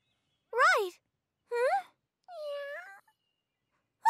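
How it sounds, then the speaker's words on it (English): A cartoon cat meows three times in short, separate cries spaced about a second apart, the last one lower and longer, clear and close with silence between, and a fourth cry just starting at the end. "So, Cleany, you found this kitty this morning after you were done cleaning up?"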